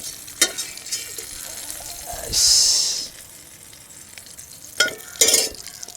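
Bullet tuna fries in a pan in a village kitchen, with a short burst of sizzling in the middle between scattered stirring scrapes and clatters, fairly quiet overall.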